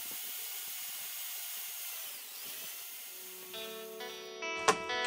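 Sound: power drill boring holes in aluminium bottle caps

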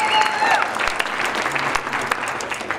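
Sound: audience applause at a pep rally

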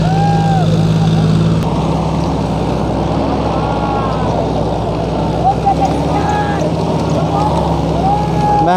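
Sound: John Deere 5042 D and Mahindra 575 DI tractors running

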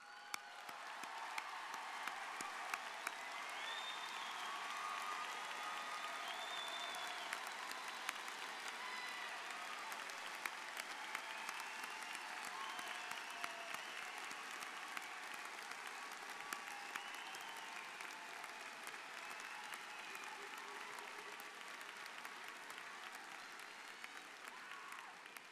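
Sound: commencement audience applauding graduates

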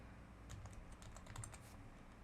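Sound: typing an IP address on a computer keyboard

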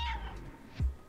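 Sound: cat meowing in the video game Stray

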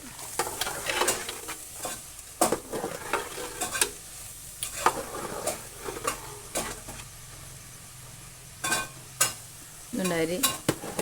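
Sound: stirring washed rice in boiling water for biryani

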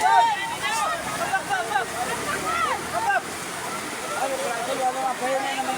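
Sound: rushing floodwater

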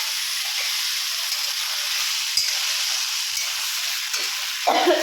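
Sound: onions frying and being stirred in a pan

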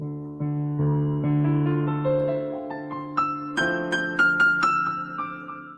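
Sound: keyboard playing a sound

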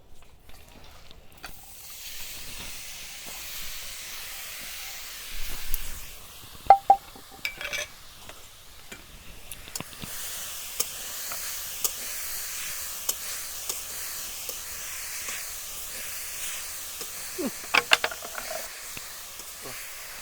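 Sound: coconut and sugar mixture sizzling in a pan

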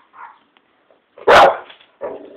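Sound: dogs barking

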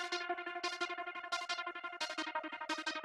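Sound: synth lead with Smooth Square Tremolo effect rack

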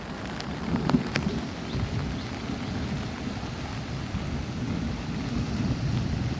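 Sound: heavy rain with thunder

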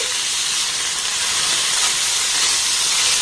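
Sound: paneer pieces being stirred and fried in oil

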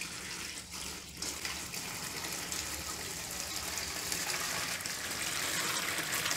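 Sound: homemade soap from used cooking oil poured into a box

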